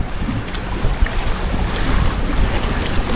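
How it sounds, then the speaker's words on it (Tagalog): Sea waves surge and wash against a small fishing boat off Taiwan, a loud continuous rush of water and wind buffeting the microphone throughout, with no talk. "Umabot doon dito yung alon."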